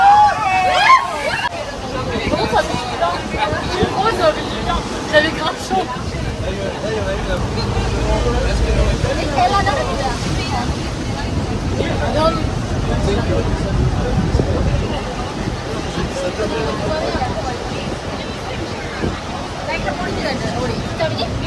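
Water splashes and roars steadily at the Rhine Falls waterfall, a continuous loud wash of spray close by, with people talking over it throughout.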